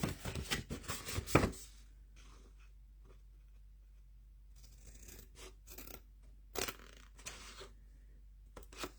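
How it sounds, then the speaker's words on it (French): Large scissors snip through paper strips in a papercraft project: a quick cluster of close, crisp cuts at first, then quiet rustling, and a few more sharp snips later. "j'ai pris des ciseaux un petit peu plus grands"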